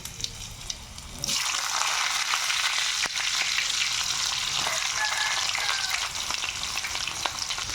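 Garlic, dried red chillies and chopped onions hit hot oil with a sudden loud sizzle, which keeps frying steadily and close, with occasional stirring.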